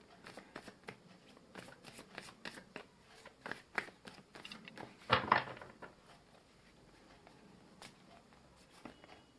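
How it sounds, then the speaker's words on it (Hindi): Tarot cards being shuffled and drawn from a deck, with soft, close, scattered riffling and flicking and one louder shuffling burst in the middle, otherwise fairly quiet. "तो इसी वजह से यहाँ से सिर्फ 2 कार्ड्स निकालूंगी"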